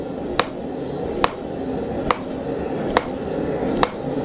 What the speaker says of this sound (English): get a little more aggressive with that round side of the hammer here, and reduce that material a little bit more